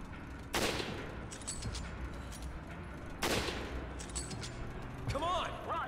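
Gunfire in Resident Evil 5, with two loud broadband bursts of shots about three seconds apart over a steady noisy game soundscape, followed by a short chirping, sweeping effect near the end.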